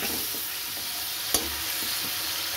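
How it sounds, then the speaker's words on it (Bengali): Spices, salt and a splash of water get stirred in a hot pan, making a constant close sizzle with soft scraping, and one sharp clink of the spoon stands out partway through. "এবার একটু জল দিয়ে দিলাম। এবার আমি এগুলোকে ভালো করে মিশিয়ে নেব।"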